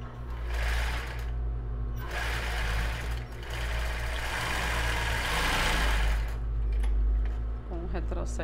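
A sewing machine runs in bursts while stitching the seam of a plus-size bra with raw elastic, giving a close, whirring mechanical drone with brief pauses between runs.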